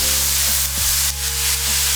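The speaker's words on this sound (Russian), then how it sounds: "Добавляем подсолнечного масла. Ох, зашипело." Steady, close hiss and crackle of sunflower oil frying in a pan, continuous and fairly loud with a low background hum.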